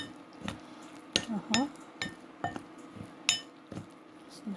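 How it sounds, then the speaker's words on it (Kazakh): A spoon stirs an egg and dough mixture in a bowl for Kazakh bread, giving a run of close, irregular clinks and scrapes against the bowl with quiet squishy sounds between them. "қазір бүйтіп немен қасықпен араластырып жатырмын, сосын кейін қолмен істеймін"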